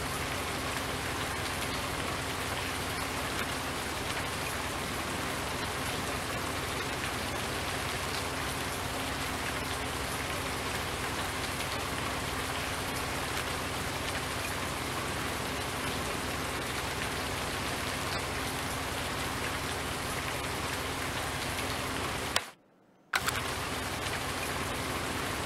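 Steady rain falls in the video game Farming Simulator 19, a dense, even hiss of rainfall running unbroken for many seconds, with one brief dropout near the end.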